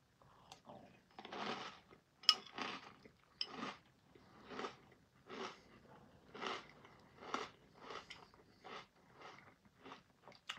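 Close, crunchy chewing of chocolate hoop and marshmallow cereal in a steady series of bites, each crunch loud and crisp with short pauses between, no talking.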